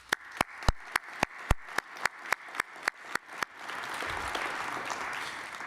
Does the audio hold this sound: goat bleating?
no